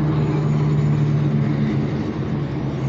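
Vehicles pass a bus stop with a loud, steady low engine rumble and road noise. It stays constant for the whole stretch and eases slightly near the end, with no voices.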